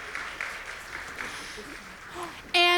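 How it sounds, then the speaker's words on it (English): Audience applause at a college performing-arts evening at Wallace State, a steady crowd clapping fills the space at moderate level before a brief loud tonal burst cuts in at the very end. "So please give yourselves a hand."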